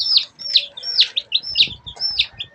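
Young chicks in a poultry brood chirp repeatedly, with bright, high peeping calls in quick overlapping bursts, fairly close and steady throughout with faint background rustle.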